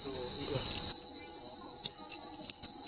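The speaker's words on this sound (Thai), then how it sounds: "อันนี้คือ จิ้งหรีดหรือว่าจีนายละ" Crickets chirp steadily and close by in a Thai outdoor setting, a continuous high trill running throughout with a few faint clicks and rustles, and no voices.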